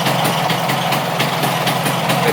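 A scooter's V30 engine idles close and loud with a steady, slightly pulsing rumble, running continuously with no talk over it.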